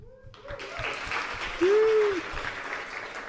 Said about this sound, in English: let's have an applause, everyone born in Europe